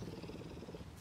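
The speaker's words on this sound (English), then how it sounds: "Can you hear her purring?" Maya the leopard purring: a low, steady rumbling purr with a fast pulsing texture, close and continuous, fairly soft.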